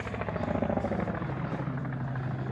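A small helicopter passes overhead during a pigeon training flight in Długie Kosakowo, its steady rotor thump and engine drone holding loud and continuous with a slight swell, with no talk.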